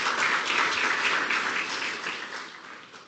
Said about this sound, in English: I want you to give yourself a clap.